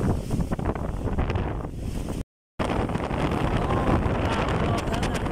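A strong typhoon wind at Bucana roars and buffets the microphone in a loud, steady rush with surf-like noise, broken by a brief moment of silence partway through.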